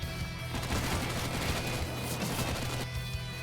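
An in-game explosion in CS:GO during a DreamHack Open match on the Vertigo map, heard as a loud, dense burst of crackling blasts with sharp gunfire-like reports sustained for a few seconds before settling back to background noise.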